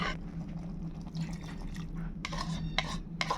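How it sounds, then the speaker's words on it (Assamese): Maggi masala spice mix being stirred into water in a small container, a steady soft liquid swirling with light clinks of the spoon against the sides, close and alone. "মেগী আটাইখিনি মছলা পেকেটটো মই খুলি লৈ পিনে পানী দি এইখিনি ঘুলি লৈছোঁ"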